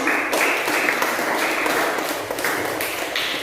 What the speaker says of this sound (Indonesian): kita beri tepuk tangan untuk kelompok 2 yang sudah mempresentasikan